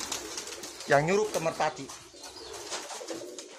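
Pigeons coo nearby in a few soft, throaty calls with a rolling rhythm. Background chatter and other bird noises run underneath.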